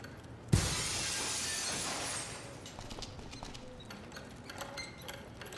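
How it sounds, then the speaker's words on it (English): Glass breaking in the video game Dead Synchronicity: a single sudden crash of shattering glass, followed by a couple of seconds of bright crumbling debris, then quieter scattered tinkling and clattering fragments. "the seat cover absorbs the noise of the breaking glass"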